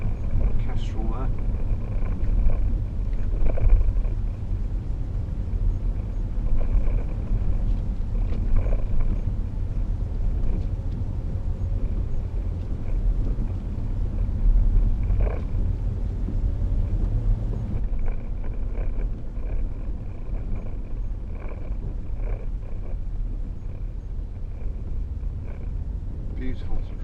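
Steady low engine and road rumble inside a 2012 Range Rover Sport 3.0 SD V6 while driving, a smooth, even drone that holds throughout with someone talking over it.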